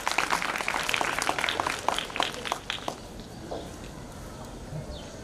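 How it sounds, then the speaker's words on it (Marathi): Applause for the headmistress at a Carmel Convent High School health programme event comes as a dense burst of many hands clapping. It fades out after about three seconds into a quiet room murmur. "जोरदार टाळ्या वाजवूया."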